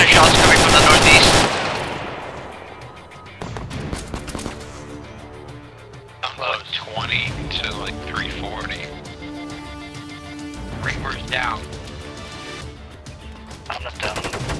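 Bursts of automatic and single gunfire ring out in a tactical video game, the shots coming from the northeast, loud at first and then more distant, with someone talking over them.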